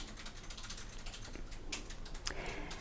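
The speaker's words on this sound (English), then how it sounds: "Here I zoomed in on a person typing on a keyboard." Rapid, light keystrokes on a computer keyboard, a steady soft clatter heard from a short distance over a low room hum, with a couple of sharper clicks standing out near the end.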